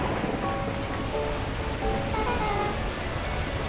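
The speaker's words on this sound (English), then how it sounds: "the heavens opened up, unleashing torrential rain" Torrential rain pours in the video game Beacon Pines as a steady, loud wash of hiss and patter that stays constant throughout with no speech.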